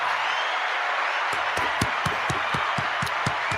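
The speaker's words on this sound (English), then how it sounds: "Let's give Mauricio Sulaiman a round of applause" A boxing press event crowd breaks into applause for WBC president Mauricio Sulaiman, with broadband clapping rising over a steady room wash and a few sharper individual claps standing out near the end.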